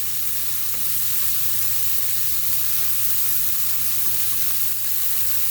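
Steady close sizzle of pork tenderloin (filet mignon) pieces browning and searing in a hot pan, an even loud frying hiss with no pauses and no talk.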